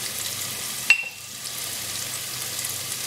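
Ground turmeric, coriander and chili hitting hot oil in a pan for a Bangladeshi fish curry, giving a close, steady sizzle with a brief sharp clatter near the start.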